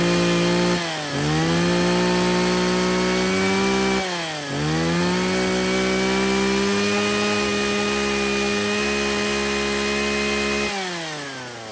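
A Shindaiwa 34cc chainsaw runs loud and close, its engine drone rising and dipping in two brief throttle drops before settling into a steady high-pitched whine with no talking.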